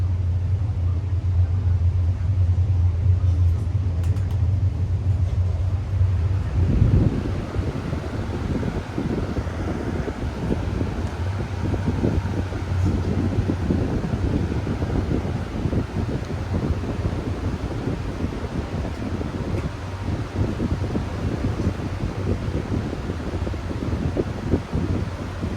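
An 18-inch Perfect Air electric fan, freshly serviced, hums steadily at first, then a louder broadband whooshing roar of air and motor takes over and runs continuously, close to the microphone.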